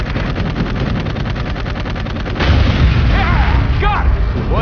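Pack-mounted guns firing in Dark Void: a fast, evenly spaced rapid-fire stream, then heavier booming blasts with whooshing, pitch-sweeping sounds, loud throughout.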